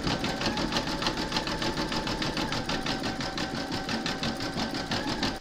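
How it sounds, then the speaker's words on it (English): An embroidery machine zigzag-stitches over the raw edges of a large parrot appliqué, a steady rapid mechanical chatter running loud and close without a break. "pop your hoop back into your machine and stitch round number 10, and that's going to zigzag all the raw edges remaining"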